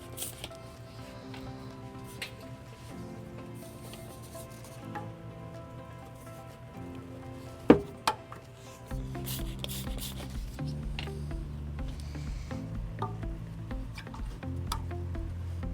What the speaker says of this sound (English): We're going to reinstall the rubber hangers that we previously removed, and we'll use some soapy water to ease that.